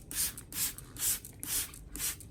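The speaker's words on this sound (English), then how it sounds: "I then spray the solution evenly over the entire Anthurium plant" Five quick hissing bursts from a spray bottle misting a nutrient solution over an Anthurium plant in a steady rhythm, close and fairly soft, with nothing else audible.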